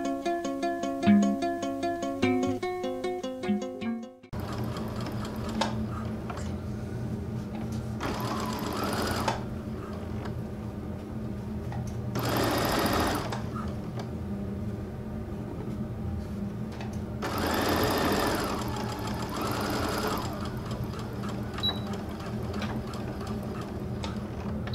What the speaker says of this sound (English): we are just going to take it to the other side and do a top stitch